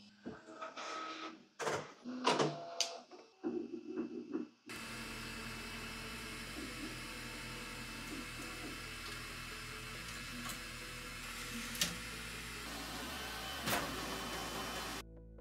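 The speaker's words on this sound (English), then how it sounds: "while the printer does its thing and calibrates itself" A Bambu Lab H2D dual-extruder 3D printer whirs through self-calibration with a steady mechanical hum and occasional clicks, running alone after a few brief bumps and knocks.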